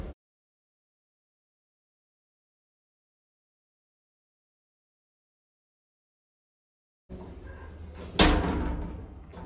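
An Otis Gen2 hotel lift's rear door slams shut: after a long silence, a rush of mechanical noise builds, then one sharp, loud thud lands close by, followed by a brief rumble.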